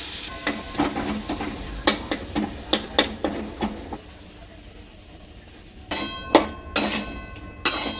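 Onions and potatoes frying in a kadai, a steady sizzle broken by repeated sharp scrapes and knocks of a spatula against the pan, a quieter pause in the middle, then the stirring resumes close by.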